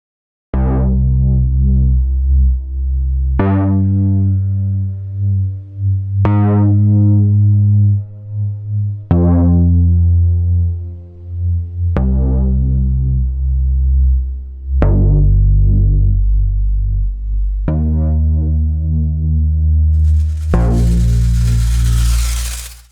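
A deep synthesizer bass plays alone, a series of sustained, decaying notes with rich harmonics, ending in a burst of noisy distortion.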